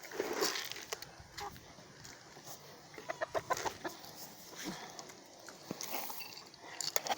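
Chickens clucking softly and pecking during feeding, scattered close clucks and sharp taps over a quiet farmyard background, with some speech underneath.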